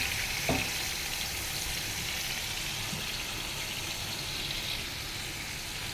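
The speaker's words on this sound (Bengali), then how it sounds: "আর এইখানে যে মাছের মাথাটা একটু ভালো করে ভাজবো আর কি" Fish head frying in oil in a pan, a steady hissing sizzle that holds evenly throughout, soft and close, with a faint clink near the start and no talking.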